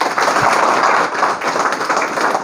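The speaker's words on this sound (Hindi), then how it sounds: "मैं चाहता हूं एक बार अरुण कुमार शर्मा सर के लिए जोरदार ताली।" An audience at a company meeting applauds steadily, dense continuous clapping at fairly close range with no speech over it.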